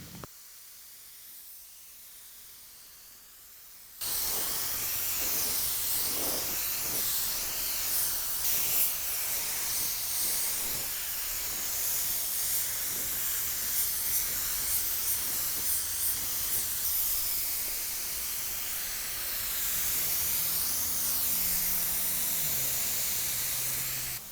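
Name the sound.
spray gun spraying metallic paint on bumper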